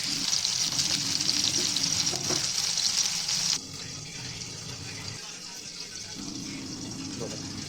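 Garlic frying in a pan for a Maharashtrian baingan bharta, a steady close sizzle that drops in intensity partway through, with a voice speaking softly in the background.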